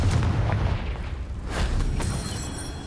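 A Confringo fire spell detonating in the Hogwarts Legacy video game, heard as a loud, booming blast with a heavy low-end rumble that sustains, followed by further sharp bursts around the middle and end.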